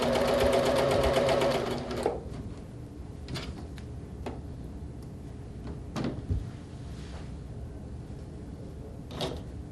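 A sewing machine stitches a quilt seam in a fast, loud mechanical run for about two seconds, then stops, leaving scattered knocks and clicks of handling in a quiet room.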